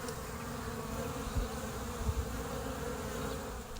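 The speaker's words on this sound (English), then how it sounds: "And the sound you're hearing right now is the sound of bees that I just recorded" Bees buzz steadily in a field recording from New Mexico, a dense continuous drone with a few louder passes as insects fly near.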